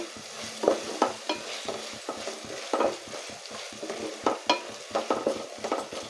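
Masala for chicken curry frying in a pan while being stirred, with continuous sizzling broken by repeated scraping strokes of a spoon, close and fairly loud, no talking.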